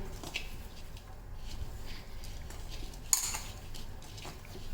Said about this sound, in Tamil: இந்த மாதிரி நல்லா பிசைஞ்சு எடுத்துக்கலாம்.